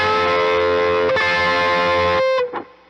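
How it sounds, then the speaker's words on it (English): Distorted electric guitar plays a unison bend from a solo: a loud, sustained, buzzing pair of notes with the bent string sliding up to pitch, then cut off with a short squealing tail, close and with no voices. "we're going to have some unison bends here."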